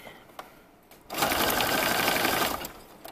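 Close and loud, a sewing machine stitches children's pajama bottoms in one steady burst of about one and a half seconds, after a few faint clicks.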